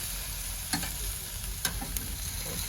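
Oxtails sizzle and fry steadily on a hot grill, a continuous close hiss broken by a few brief clinks and scrapes as the meat is turned, with no talking.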